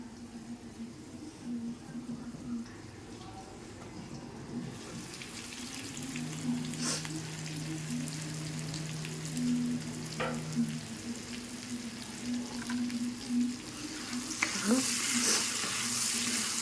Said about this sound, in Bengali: গ্যাসের ফ্লেমটা কমিয়ে দিয়ে আমি এটাকে ঢেকে ঢেকে কষিয়ে নেব ভালো করে।